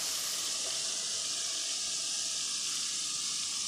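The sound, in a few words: white cumin seeds added to chana dal, sizzling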